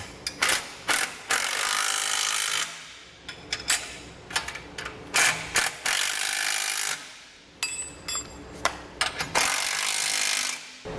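A 19 mm or 3/4 inch socket ratchet tightens the bolts of a Roadmaster Direct-Connect base plate kit on a 2022 Jeep, in several loud, close bursts of rapid clicking separated by short pauses, with no speech.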